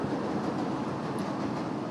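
Chicago train rumbling steadily at the Lincoln Square stop, a continuous close wash of rail and carriage noise with no voices.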